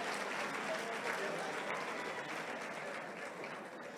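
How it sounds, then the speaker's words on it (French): A church congregation claps in a steady, distant-sounding wash of applause, fairly faint, with voices mixed in underneath. "Applaudissez."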